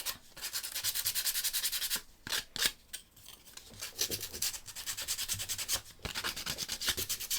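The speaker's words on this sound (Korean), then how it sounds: "발 부분, 모서리 있는 데를 사포질 해주시면 좋아요." Sandpaper rubbed over the edges of a wooden marionette's foot, loud and close, in quick rhythmic back-and-forth strokes with a few short pauses between bursts.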